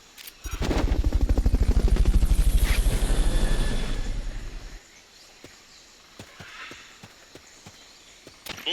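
Helicopter from the video game Metal Gear Solid: Peace Walker, a loud sustained rotor thump and engine roar for about four seconds that cuts off abruptly, followed by faint scattered clicks and ambient noise.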